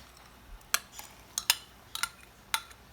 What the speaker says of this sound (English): you're going to stir in your dissolved yeast